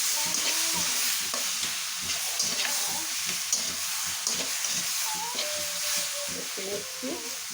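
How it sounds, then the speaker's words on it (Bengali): Malta orange chutney with a pinch of turmeric fries in a pan with a continuous sizzle, while repeated stirring scrapes and taps sound close by. "দিয়ে দিচ্ছি সামান্য পরিমাণ হলুদের গুঁড়া, বেশি দেবো না, দিয়ে নেড়ে চেড়ে নিচ্ছি।"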